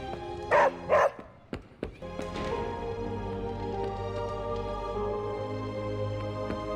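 Two loud barks from a dog in the video game Marvel's Midnight Suns, close and sharp, followed by a short yip and then a steady musical game backdrop.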